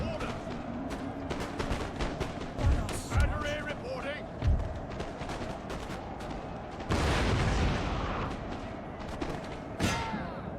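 Artillery booms and musket volleys from a Napoleon: Total War battle, scattered dull thumps and crackling distant gunfire over a continuous battlefield din, with someone talking throughout.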